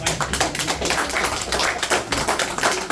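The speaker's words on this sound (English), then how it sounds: "we all want to give you a round of applause for all you've done" Applause at a Roanoke, Alabama city council meeting, a steady patter of many hands clapping, loud and close, filling the whole stretch without voices.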